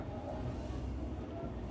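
A train rumbles and rolls steadily into Grimsby Town station, a continuous low mechanical drone of wheels and carriage noise heard from on board, with no talking.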